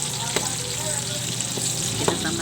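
Pork, saba bananas and potatoes fry in a pan with a steady, close sizzle and a few light stirring clicks.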